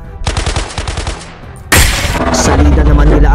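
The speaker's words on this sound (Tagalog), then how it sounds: "Putok ulit." Gunfire sound effect in a narrated Tagalog story: a loud, rapid automatic burst, a brief pause, then a second harsh, sustained blast of fire.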